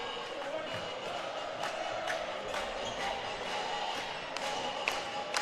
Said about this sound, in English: As Tiger fans of Gilbert are all giving nice clapping chants.